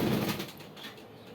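Pigeons in a cage give a soft, low coo that swells at the start and fades over about a second, faint and close, against a quiet room hush.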